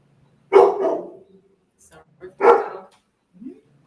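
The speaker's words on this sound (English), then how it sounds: "I think the dog is trying to talk over you." A dog lets out two loud, close barks about two seconds apart, ending in a soft whimper, in a quiet room during an evening conversation with guests.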